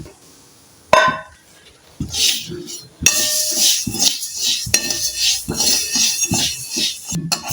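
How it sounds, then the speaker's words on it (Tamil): Coriander seeds are dry-roasted in a pan, with irregular metallic scrapes and clinks of stirring over a soft, continuous crackle, close and moderately loud. "மல்லி இருக்கும் நூற பாருங்க ஒரு மாதிரி பொரியிற சவுண்டு வருது"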